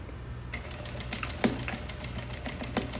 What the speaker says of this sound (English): I also have my machine set to 2 millimeters for the stitch length.